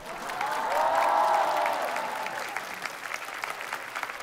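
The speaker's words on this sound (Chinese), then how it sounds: "就别鼓掌了" Audience applause at a Beijing TV Spring Festival Gala comedy act, a broad swell of clapping that peaks early and then thins into scattered, fading claps.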